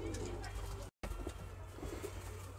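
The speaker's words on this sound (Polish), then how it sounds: "Też tutaj pokażemy kilka gołębi" Pigeons in a breeding loft give soft low coos that murmur steadily and fairly close, with a brief cut of silence near the middle and a speaking voice mixed in.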